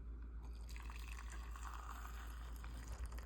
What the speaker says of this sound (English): I'm going to pour some in my cup here